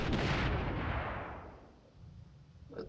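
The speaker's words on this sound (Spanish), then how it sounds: "Voy a disparar." Gunfire in the World War II shooter Heroes & Generals: a loud blast opens and rolls off into a long fading rumble, then a faint sharp crack near the end, with no talking.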